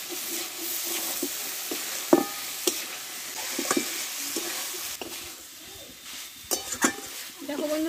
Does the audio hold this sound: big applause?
no